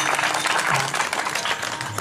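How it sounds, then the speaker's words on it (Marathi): Steady applause from an audience at a Marathi kirtan fills the moment, honoring the pakhawaj drummer, a dense, even patter of many hands clapping at moderate loudness. "त्यांच्यासाठी एकदा टाळ्या वाजव"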